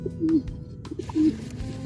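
Pigeons cooing at a poultry and pigeon pet market stall, two low rolling coos close by with faint background bustle and light knocks between them.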